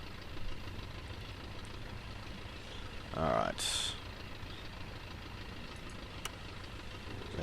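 A de Havilland Chipmunk's Gipsy Major engine idles in the FSX flight simulator, a low steady drone running throughout, with someone speaking briefly and a short burst of higher hiss midway.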